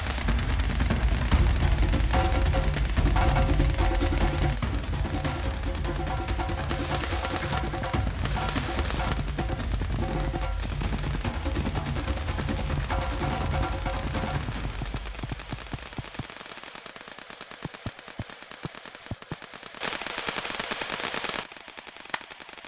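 Dense bursts of rapid gunfire in a shooting game roll on almost without pause for about fifteen seconds, loud and close, then thin out into scattered single shots.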